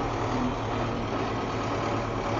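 A Zetor Proxima 85 tractor hitched to a Staltech DNR-S4 plough runs on a wet autumn field, its engine a steady, close, low diesel drone with no talk over it.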